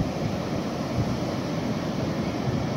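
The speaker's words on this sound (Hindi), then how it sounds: "ओहो कितनी बड़ी बड़ी लहरें आ रही हैं" Big ocean waves break steadily on Baga beach in Goa, a constant rushing surf with wind noise, loud and without any voices.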